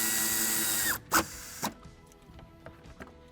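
A power tool whirs steadily while tightening a nut onto a fuse box stud during a towbar and wiring kit install on a 2022 Maserati Grecale, then cuts off, leaving a few quieter mechanical clicks and knocks nearby.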